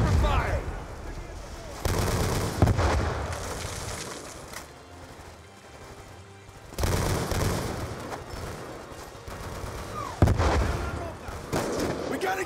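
Rapid bursts of automatic gunfire and blasts in the Call of Duty Black Ops 2 video game come in loud waves with quieter gaps, and voices shout over the combat.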